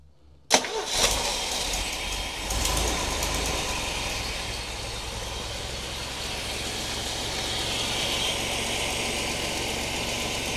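A Buick 225 V6 in a Willys cranks and fires up with a sharp catch, then settles into a loud, steady running drone close by, with no talking.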